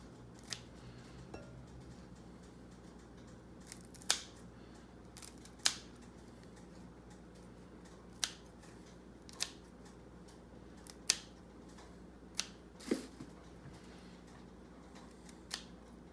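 Kitchen scissors snip loosely through bigger food pieces, giving a series of sharp, isolated clicks spaced a second or two apart over a low steady background hum, with no talking.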